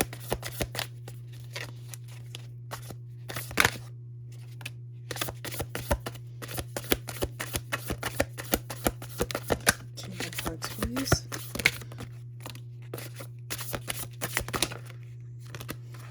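Tarot cards shuffled by hand, quick riffling bursts and flicks repeated for over fifteen seconds, close and crisp over a constant low electrical hum, with a voice speaking at times.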